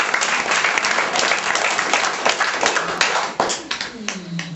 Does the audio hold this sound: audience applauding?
yes